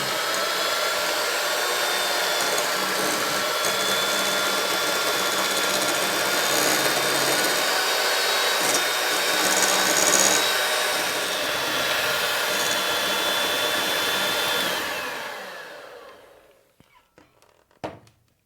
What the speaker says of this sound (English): I also have my hand mixer to make my work easier